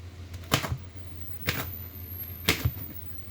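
A knife dicing an ingredient on a chopping board for chicken curry, giving three sharp, separate chops about a second apart, close and fairly clear against a quiet kitchen background.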